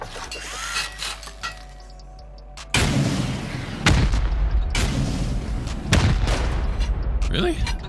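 Rocket and C4 blasts tear through an underwater base during a raid in the game, with several sharp, heavy booms followed by rumbling debris, set against earlier clicks and hum, and a voice speaking between the explosions.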